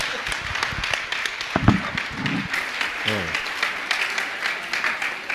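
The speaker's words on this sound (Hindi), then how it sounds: "जोरदार तालियां" Audience at a Jain religious gathering applauding loudly, a dense burst of clapping with some sharper individual claps and a voice briefly heard over it.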